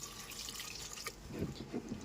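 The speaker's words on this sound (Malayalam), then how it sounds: "ഇനി നമുക്കൊന്ന് വെള്ളം ഒഴിച്ച് കൊടുക്കാം." Water poured into a pot of potato curry, a soft splashing and trickling rising in the second half of the moment, faint and close without talk.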